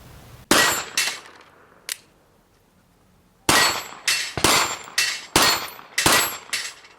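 Rifle shots of a fast round striking steel targets, heard as sharp, loud cracks, each with a ringing metallic decay: a few spaced shots, then a quick run of about six in a steady rhythm, close by.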